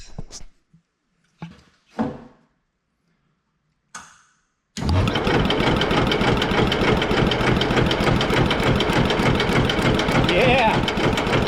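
After a few scattered clicks and brief noises, a Hesston 140 Front Runner garden tractor engine without its carburetor is cranked over steadily, a loud, continuous rapid mechanical churning that carries on to the end.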